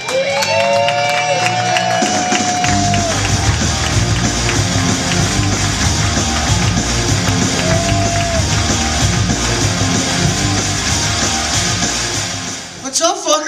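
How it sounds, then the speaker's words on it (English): A Las Vegas comedy club audience on a Friday night breaks into loud, sustained applause and cheering with shouts and whoops as comedian P.J. Stansbury takes the stage. An announcer's voice carries over the start, and the crowd noise holds steady for over twelve seconds. "Huge round of applause for the very funny P.J."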